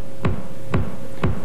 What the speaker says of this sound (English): We'll start off here with a big bass drum, and it sounds something like this.